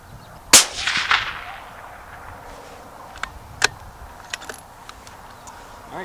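A rifle fired over a Magnetospeed chronograph: one sharp, loud gunshot cracks near the start and rings off, then a few faint clicks and taps follow in a quiet outdoor setting.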